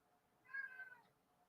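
A single cat meows once, a drawn-out rising and falling call heard faintly and slightly distant in a quiet indoor room.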